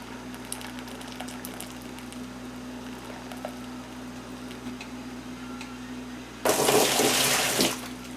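Rhubarb juice meant for mead is poured into a carboy, a sudden loud gush of liquid that lasts just over a second after a quiet stretch of low room hum.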